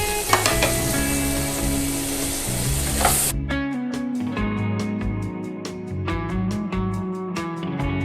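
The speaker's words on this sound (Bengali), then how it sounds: "এবার আলুগুলোকে ভেজে নেব।" Potato pieces seasoned with turmeric and salt fry loudly in a pan for aloo dum, a dense continuous sizzle with faint clinks of stirring.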